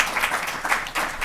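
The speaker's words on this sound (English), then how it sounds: "Let's welcome her to Washington with a round of applause." An audience claps in a round of applause welcoming an escaped schoolgirl onstage at a Washington event, dense steady clapping filling the short moment.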